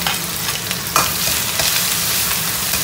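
Fresh Sichuan peppercorns, garlic and ginger stir-fried in oil in a wok, giving a loud, steady sizzle with scraping spatula strokes throughout and no voices.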